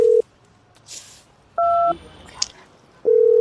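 A phone call is dialed and not picked up: short electronic beeps and dial tones sound in separate bursts with quiet pauses between them, close and clear, alongside faint handling noise.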